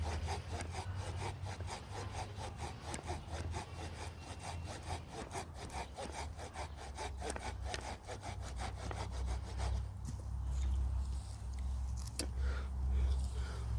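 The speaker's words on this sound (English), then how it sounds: "I'm just kind of letting the saw do its thing and stuff. Let the blade do the work" A Muddy folding saw cuts through wood with fast, even back-and-forth rasping strokes, close and steady, the rhythm thickening toward the end of the cut.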